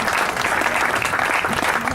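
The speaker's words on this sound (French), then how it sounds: "On peut l'applaudir," Steady, dense applause from an audience at a literary guinguette event, clapping for a speaker, even and fairly loud across the whole clip.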